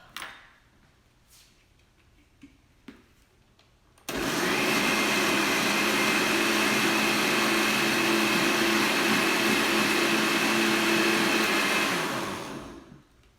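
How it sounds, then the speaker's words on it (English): After a few quiet clicks, a blender blending tomatoes starts up and runs steadily for about nine seconds with a loud whirring roar, then winds down. "I'm going to put it right in the blender"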